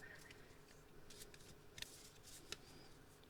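A deck of tarot cards is shuffled by hand in a quiet room, giving soft, close riffling and sliding with a couple of sharper card snaps.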